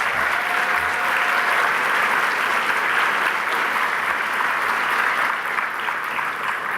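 A conference audience in a large room breaks into sustained applause, a dense, steady wash of many hands clapping at full strength for the whole stretch with no talking over it.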